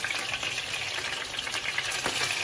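Chicken skewers frying in a pan, a steady, close hiss and crackle of sizzling oil that runs unbroken throughout with no voices.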